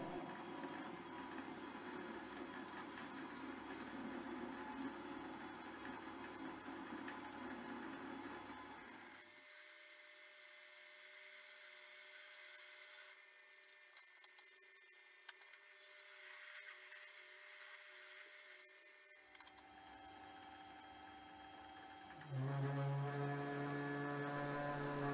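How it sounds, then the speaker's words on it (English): A metal lathe drills out the center of a steel bar with a blunt 20 mm drill, giving a steady mechanical hum with high, shrill squealing tones that shift partway through. "I'm just going to end up using a 20mm drill to drill out the center"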